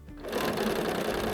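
A sewing machine stitches quilt block pieces for a star block, starting after a brief quiet moment and then running as a steady, close, continuous whir with no talking.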